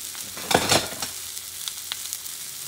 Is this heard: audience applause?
no